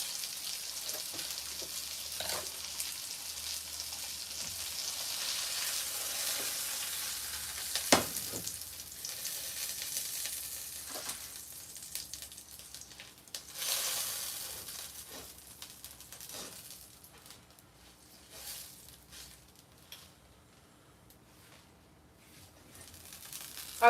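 A Hawaiian tomahawk steak sizzles in fresh butter in a pan: a soft, steady, fairly quiet crackle with occasional sharper pops and clicks, and no talking.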